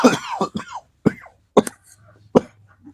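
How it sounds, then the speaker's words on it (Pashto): A person coughs several times in short, separate bursts, with quiet pauses between them and a little throat clearing. "ولې دی ټوخ کېږي"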